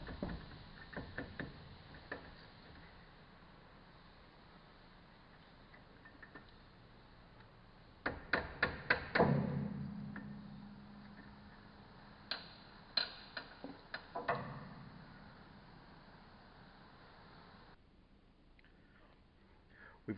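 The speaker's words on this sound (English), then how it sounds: "I'm also going to loosen the slide bolts while I have it on" Brake caliper slide bolts on a 2016 Ram 1500 being loosened with a wrench, a few quick clusters of sharp metallic ratchet clicks, close and fairly quiet, separated by stretches of near silence.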